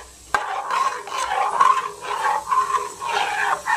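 Milk being stirred in a pan over high heat for kharvas, a sudden clank followed by rhythmic swishing and scraping strokes, close and fairly loud.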